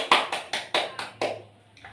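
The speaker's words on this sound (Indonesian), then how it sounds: "tepuk tangan dulu" A class of schoolchildren clapping hands together: six crisp, evenly timed claps, close and fairly loud, ending with one faint last clap.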